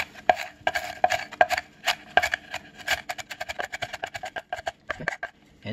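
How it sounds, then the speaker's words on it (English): Knife chops lemongrass into small pieces on a board, a brisk run of sharp, evenly spaced taps that quicken toward the end, close and distinct with no voices. "we will chop the lemongrass into small pieces"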